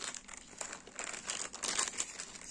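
Instant noodle packets from a budget Big Bon tom yum set are lifted out and handled, giving a steady, close crinkling and crackling of thin plastic with brighter rustling bursts and no talking.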